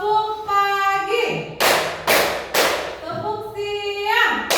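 A class in a teaching-practice lesson performs a rhythmic group clapping routine: three loud, sharp claps evenly spaced in the middle, with chanting voices before and after.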